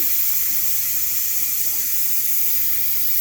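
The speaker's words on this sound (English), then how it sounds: "we're just going to release the rest of the pressure" Steam hisses steadily from a pressure cooker as its remaining pressure is released after cooking smothered pork chops and rice, a continuous, even rush of vented steam with no voices.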